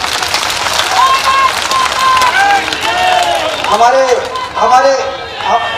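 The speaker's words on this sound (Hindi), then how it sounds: "दोनों हाथ ऊपर उठाकर जोरदार ताली बजाकर उनका स्वागत करें" Crowd at a political rally welcoming a deputy chief minister claps loudly with both hands raised, a dense burst of applause mixed with cheering and a voice talking over a loudspeaker.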